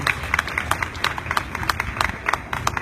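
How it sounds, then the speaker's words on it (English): A crowd at a vigil in Bangor, Maine applauds law enforcement, steady scattered hand clapping with sharp individual claps standing out, moderately loud and with no talk over it. "So let's please give the law enforcement community a round of applause."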